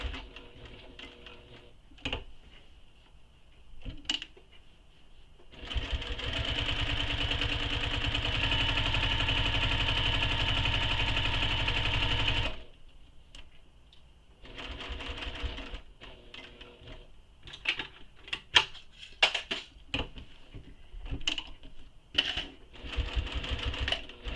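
A sewing machine runs one continuous stitching pass across the bottom of a handmade plush toy, a steady mechanical whir lasting several seconds, framed by quieter clicks and handling noises before and after.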